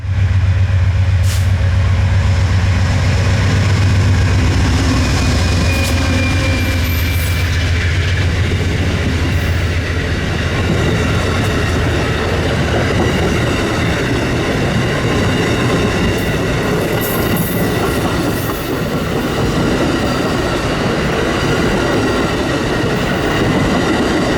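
Freight train PO 92 rolls past in falling snow, a loud, close and continuous rumble with rail clatter and a steady grinding roar that stays strong for the whole stretch.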